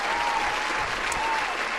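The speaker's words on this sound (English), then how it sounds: "Where's my applause sound?" A canned applause sound effect on a live stream, an even, continuous burst of crowd clapping and cheering at steady volume throughout.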